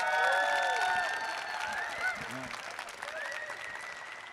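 An audience at a live health talk in Toronto applauds, and the clapping is mixed with whoops and pitched cheering voices that fade gradually over a few seconds.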